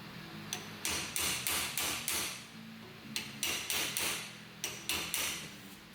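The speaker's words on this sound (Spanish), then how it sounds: "con un martillo y una lámina de metal, golpearle a la parte de abajo" Hammer striking a metal sheet to straighten a dented part on a KTM Duke motorcycle, a run of about a dozen sharp, ringing taps in two quick rhythmic bursts, moderately close over a low background hum.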